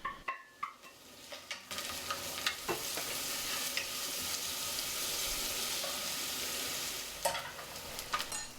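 Chopped onion dropped into rice oil in a hot pot and stirred: a few sharp clicks and scrapes, then a steady loud sizzle that carries on for several seconds, with more utensil knocks near the end.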